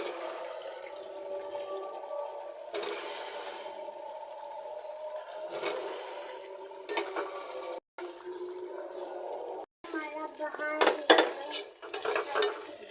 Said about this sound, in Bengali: এখন কষাটা করবো, মিক্স করে দিচ্ছি